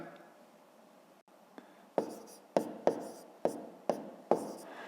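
A pen writes numbers by hand on paper in a run of short, scratchy strokes, about seven distinct taps and scrapes in quick succession. Close and quiet, with no other sound around them.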